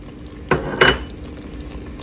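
A tablespoon clinks twice against a pot while green onions go into a vegan cauliflower-crab chowder, two sharp close metallic knocks about a quarter second apart over a quiet kitchen background.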